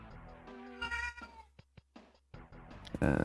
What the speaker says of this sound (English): Sounds like I need to take care of my cat before we start the mission.